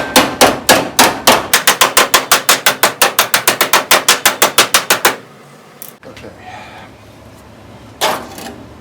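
A hammer taps metal on a rocker patch panel for a 1970 Challenger, delivering a quick, evenly spaced run of loud, close, sharp strikes. After about five seconds the hits stop, leaving quiet shop rustling and then one last tap.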